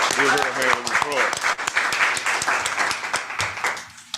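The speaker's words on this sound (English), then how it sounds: "Give her a hand of applause." Attendees at a transit board of directors meeting clap in a thin round of applause. A voice speaks over the start, and the clapping gradually tapers off.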